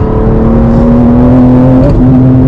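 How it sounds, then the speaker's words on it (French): A BMW M4 CSL accelerating hard on a forest-like road, its 550-horsepower engine loud and close with a strong steady tone that climbs slightly, then a brief dip and recovery near the end. "la voiture me permet de réaccélérer et surtout de passer la puissance"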